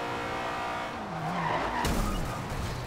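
Honda S2000 tuned to 300 horsepower in the racing game Forza Horizon 2, engine droning under a long tire skid and squeal, loud and continuous with a sharper screech near the end.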